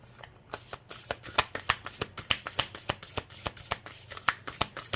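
A deck of tarot cards is shuffled by hand in a steady run of crisp, rapid riffling slaps, close and clear with no talking.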